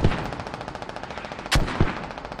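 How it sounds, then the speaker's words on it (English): Mortar rounds striking targets in the military shooter game Squad: a rapid crackle of gunfire runs throughout, punctuated by two sharp, loud impact blasts close together near the end. "now they're starting to get some effective mortars on target"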